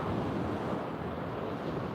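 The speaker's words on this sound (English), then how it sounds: "To enjoy the sound of the waves," Ocean waves wash continuously at a beach, a dense, steady surf roar with some wind buffeting the microphone and no voices.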